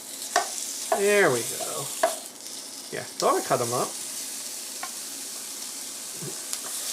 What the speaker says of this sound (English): So I'm going to brown the chicken first.